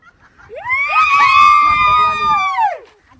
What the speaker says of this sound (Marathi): इकडे पैसे भेटले की तिकडे ओरडून दाखवतात ते बघा